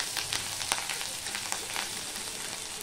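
Ginger paste frying in hot oil over a low flame gives a dense, even sizzle with scattered sharp spits and crackles, close and fairly quiet, with no talking.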